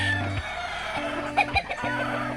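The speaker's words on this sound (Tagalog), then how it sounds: "Ito yung mga kasabong dito" Gamecocks in backyard pens cluck in steady, repeated low calls, close and fairly loud, with a few sharper higher clucks in the middle of the burst.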